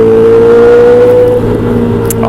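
Yamaha R6 sport motorcycle passing close by, a loud, sustained engine drone that holds a steady pitch and then eases off slightly as it moves away.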